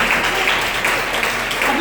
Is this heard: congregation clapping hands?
yes